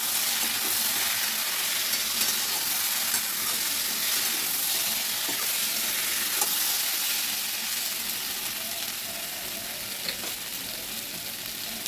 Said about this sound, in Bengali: মশলা যেটা বেটেছি আর কাঁচা লঙ্কা আদাটা দিয়ে দিলাম, দিয়ে আবারও নাড়তে থাকবো, ভালো করে সাঁতলে নেব মশলাটা